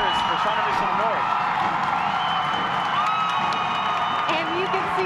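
A high school boys basketball crowd roars and whoops in a loud gym before tip-off, a dense, continuous wall of cheering with shouts rising above it.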